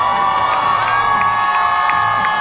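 A dense crowd at the National FFA Convention cheers and shouts continuously, with children's high voices and whoops rising above a loud, sustained roar.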